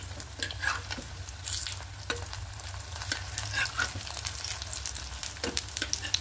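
Poppy seed fritters fry over medium flame in a pan of oil after being turned, a soft continuous sizzle broken by sharp spitting pops and scraping stirs.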